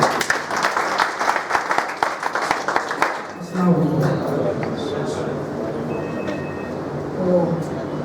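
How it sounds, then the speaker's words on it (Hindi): An audience applauds to welcome a speaker, dense clapping from many hands that thins out after a few seconds into a softer, ragged patter. "एक जोरदार तालियों से स्वागत कीजिए।"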